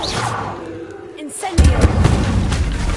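The Incendio fire spell in Hogwarts Legacy bursts out abruptly after a quieter stretch, a loud whooshing blast that keeps roaring and crackling for over a second.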